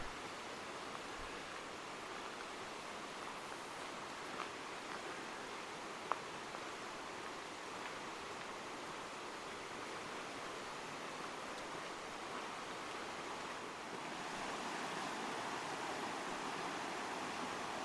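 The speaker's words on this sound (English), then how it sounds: "Just listen to the water, how pretty it is." Steady rushing of the Lehigh River near a bridge in Jim Thorpe, Pennsylvania, a continuous broadband wash that stays even throughout, with a slight swell near the end.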